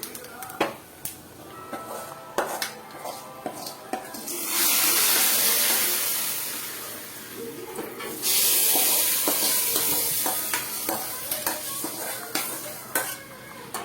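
Liquid is poured into a sizzling pan while fish curry cooks, giving two loud, sustained bursts of hissing sizzle. Utensil clinks and stirring scrapes sound before, between and after the bursts.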